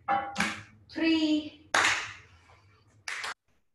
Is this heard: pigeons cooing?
no